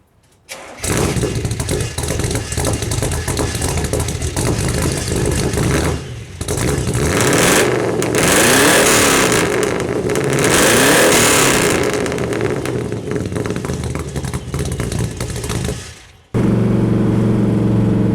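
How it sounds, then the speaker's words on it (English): A 1970 Chevelle SS 396 V8 cranks and fires, then settles into a loud, rumbling idle broken by several deep revs that rise and fall, recorded close behind the car before it cuts to a quieter steady idle. "I'll stick it behind the car and rev it up a couple of times"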